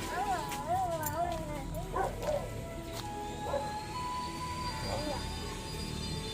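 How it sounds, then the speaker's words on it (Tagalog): A pet dog barks and yips a few times at moderate distance, short sharp calls scattered across the scene amid background voices and outdoor household noise. "Nagkaroon kayong alagang aso ah."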